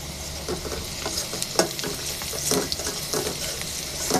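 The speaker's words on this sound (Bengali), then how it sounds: "পেঁয়াজ মরিচের সাথে একটু হলুদ মরিচ গুঁড়াটা একটু ভেজে নিলাম।" Chopped onion, chili and turmeric powder fry in hot oil, a steady close sizzle broken by repeated scraping stir strokes throughout, with no talking.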